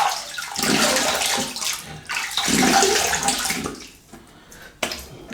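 Tap water runs steadily to rinse a shaving razor at a bathroom sink, a close, broadband splashing rush that dips briefly near the end before resuming.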